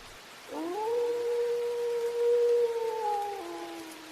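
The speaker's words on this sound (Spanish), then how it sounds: "escuchó un aullido desgarrador" A long, wavering, mournful howl rises and holds for about three seconds before trailing off, clear and fairly close over quiet background.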